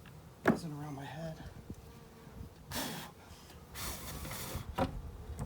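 Honey bees buzz close around a beekeeper's head while a hive is worked, a steady insect drone with sharp nearby swells and a few brief knocks.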